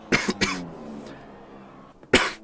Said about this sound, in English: Just have a little bit of a cough there.